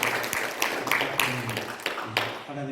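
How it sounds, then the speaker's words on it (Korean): A church congregation claps in a short burst, with sharp scattered hand claps over a murmuring hall and voices sounding partway through. "박수 한번 해드립시다."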